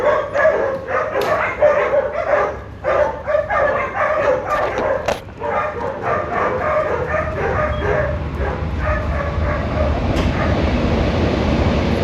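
A large dog barking repeatedly at close range, rapid yips and barks in quick bursts with short pauses, loud over light outdoor background noise.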